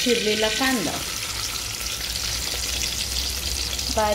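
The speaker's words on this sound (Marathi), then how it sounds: "चांगलं त्याला तेलाला तडतड होऊन द्यायचं आहे" Oil and ghee sizzle and crackle steadily in a pan while dal tadka is being tempered, with onion and chili going in. The frying hiss is loud and continuous, and a voice is heard briefly at the start and end.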